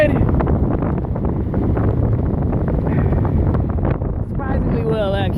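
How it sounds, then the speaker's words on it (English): Strong wind at a beach roaring and buffeting the microphone in a loud, constant rumble, with a voice briefly audible near the end. "I don't even know if you can hear me with all the wind"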